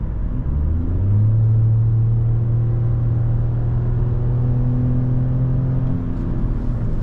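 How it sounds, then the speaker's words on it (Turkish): A three-cylinder engine in a new Ford Focus holds a high, steady rev with a strong droning hum and low rumble, heard from inside the car with no talk. "Yüksek devirlerde de ses öyle güzel ki yani 3 silindirli olduğu için keyifle dinliyorsunuz o sesi."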